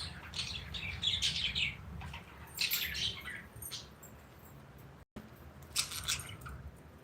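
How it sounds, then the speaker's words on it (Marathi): Pet lovebirds chirp in bursts of high, bright twittering, loud and close, with quieter gaps between flurries over a steady low background hum. "अशा पद्धतीने पक्षी आहेत आमचे लव बर्ड्स आहेत"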